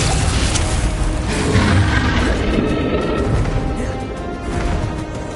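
Bombarda and Confringo spells exploding in the Hogwarts Legacy video game: a loud, heavy crash and boom that rumbles and swells, then slowly decays over several seconds with debris-like clatter and no speech.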